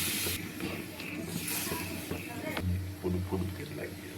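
A bowl of water is poured into a cooked-down spice paste for mixed vegetable gravy, setting off a close, loud burst of hissing steam and sizzle that gradually settles into quieter bubbling.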